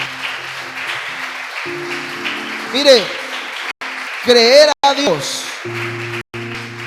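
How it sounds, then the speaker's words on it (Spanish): A church congregation applauds as a steady, hissing wash that runs beneath a voice. The clapping stays at a moderate level throughout and drops out briefly a few times. "Dele un fuerte aplauso al Señor."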